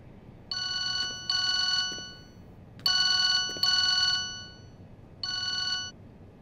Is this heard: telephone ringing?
yes